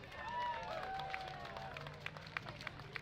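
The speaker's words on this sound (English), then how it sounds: "Give a nice round of applause" Scattered applause and clapping from a parade crowd at Buffalo Grove Days, fairly distant and uneven, with a few sharp claps standing out over background murmur and faint tonal sounds.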